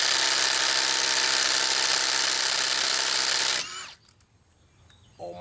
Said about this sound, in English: Let's tighten this one down. Let's see if we can budge it with this one.